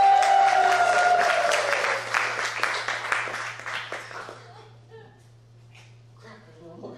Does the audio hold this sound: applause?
yes